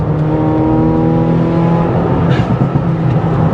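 A Renault Clio 182 hot hatch is driven hard in second gear, its engine droning at steady high revs with a strong tonal hum and road noise, heard from inside the car.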